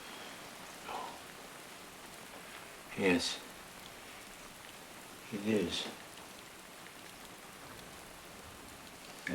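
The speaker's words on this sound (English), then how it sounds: "The rain, I mean." Soft, steady rain falls as a faint hiss throughout, while quiet voices speak briefly over it.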